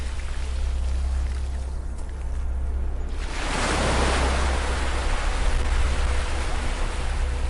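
Gentle ocean waves wash onto a beach in a steady, soft rush of surf, swelling louder partway through and staying continuous with no voices.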